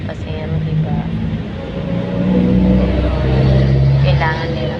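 Jeeps and other vehicles passing on a hot road, a steady engine rumble with rising and falling swells as they go by, heard under a nearby voice speaking.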